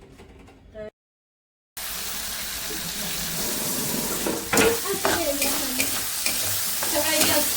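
Masoor dal curry cooking in a pan, a steady sizzle and bubbling with a spoon stirring and scraping after a brief silent gap, close and moderately loud.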